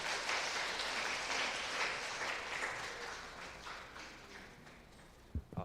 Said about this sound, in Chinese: 来拍手一下，瑞平牧师